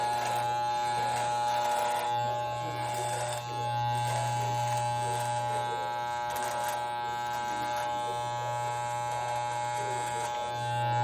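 An electric shaver hums steadily and loudly at close range for the whole stretch, a constant buzzing drone with slight changes in pressure, and birds are nearby.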